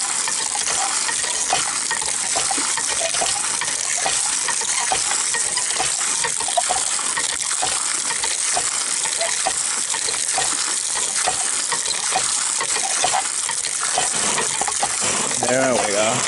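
Water pouring and gushing out of a container outdoors, a continuous loud splashing rush with a person talking over it.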